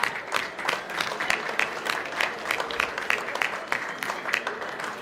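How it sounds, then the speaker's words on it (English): Audience applause at a live cigar smoking competition grand final, a dense, steady crackle of many hands clapping throughout with scattered louder claps, lasting the whole stretch without speech. "So can I get a round of applause for the great cigar we all smoked tonight?"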